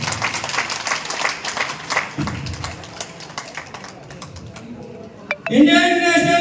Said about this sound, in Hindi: सम्मानित किया जाए तालियों के साथ।